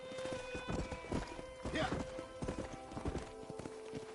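A horse in the Red Dead Redemption video game trots with rhythmic clip-clopping hooves, close and steady, under voices in the background.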